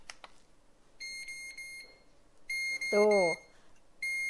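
Loud electronic beeping from a kitchen scale's timer function during mochi making, sounding in three bursts of rapid, piercing pulses with short pauses between them; a voice briefly speaks over the middle burst.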